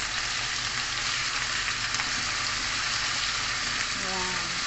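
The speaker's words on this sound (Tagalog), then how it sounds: "Nilagay ko na lang muna yung ating patatas" Potatoes fry in a pan for chicken afritada, giving a loud, continuous, close sizzle with a faint voice briefly under it.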